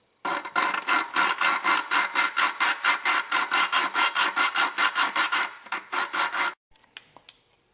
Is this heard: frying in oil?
no